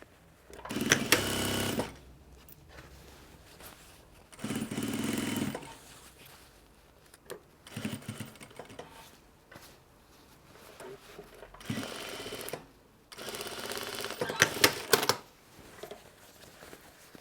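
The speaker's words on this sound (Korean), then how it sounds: "겉감의 옆선 부분이랑 안감의 옆선 부분을 박음질 하시면 됩니다" A sewing machine stitches the side seams of outer and lining fabric for a costume, running in several loud bursts of rapid mechanical whirring separated by quiet pauses and light handling noises.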